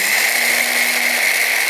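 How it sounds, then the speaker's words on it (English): Electric grinding machine running steadily as it grinds roasted soybeans into powder for a Khmer soybean and rice drink, a loud continuous whirring hum with no talk over it. "So we put it into machine. After that, we grind it."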